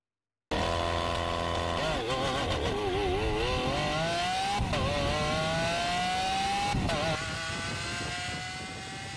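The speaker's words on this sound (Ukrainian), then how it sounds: "Вдалий старт електрокара і жодного шансу засумніватися в перемозі Тесли." A Tesla electric car and a Lamborghini gasoline supercar in a 400 m drag race. One loud, close drive sound climbs steadily in pitch while accelerating, with a few brief dips as gears change, then fades slightly at the end.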